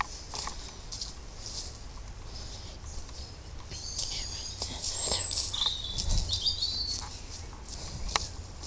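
Birds chirp in a nature reserve, a few faint scattered tweets and calls rising over quiet outdoor ambience with rustling and footsteps, fairly distant.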